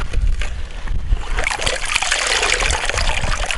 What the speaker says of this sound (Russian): Дырки делают для того, чтобы вода стекала.